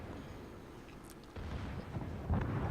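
Main guns of the Konig Albert battleship firing in World of Warships, deep booming blasts that swell into a heavier rumbling roar, set against constant low game background noise.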